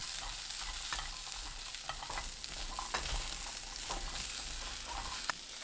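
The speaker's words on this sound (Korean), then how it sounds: "팬에 땅콩 넣고 중불로 2분 볶습니다. 호두 넣고 1분 30초 더 볶아주세요." Peanuts, with walnuts added, stir-fried in a pan over medium heat: a steady, close sizzle with constant scraping and stirring clatter throughout, no voices.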